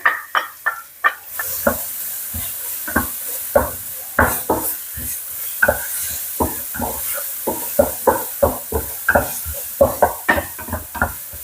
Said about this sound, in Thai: ทีนี้เรามาเริ่มเจียวกระเทียมกันก่อนนะคะ